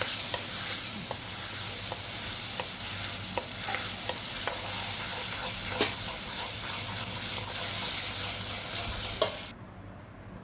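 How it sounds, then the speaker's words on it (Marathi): Tomato and onion paste fries in a pan on medium flame while being stirred continuously. A constant sizzle runs under repeated spatula scrapes and taps, then cuts off near the end. No voices. "त्यानंतर मी टाकलं आहे टोमॅटो आणि कांद्याची पेस्ट मिक्सरमधून काढलं होतं. त्याला आता मिक्स करून घ्यायचं खूप."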